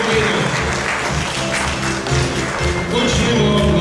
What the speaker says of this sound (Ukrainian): Почнемо оплесками.